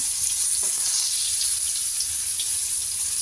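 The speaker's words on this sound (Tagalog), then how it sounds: "Tapos syempre yung natirang itlog para di sayang, lutuin din natin." Leftover beaten egg frying in a pan for tortang talong, a steady close crackling sizzle with no pauses.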